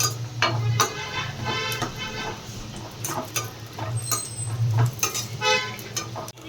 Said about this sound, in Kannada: ಒಣಕೊಬ್ಬರಿನ ಇದ್ರ ಜೊತೆ ಸೇರಿಸ್ಕೊಂಡು ಈ ಎರಡನ್ನೂ ಸ್ವಲ್ಪ ಹುರ್ಕೋತೀನಿ